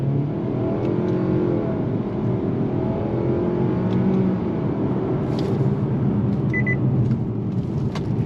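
A 2023 Nissan Altima pulls hard under throttle, its steady engine drone rising from inside the cabin as paddle-shifted simulated gears change, with a few faint clicks and no talking.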